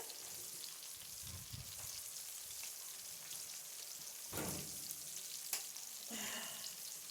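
Fries crackle and sizzle steadily in hot oil as a quick home dinner cooks, a constant broadband hiss with a few louder pops and stirring bumps partway through.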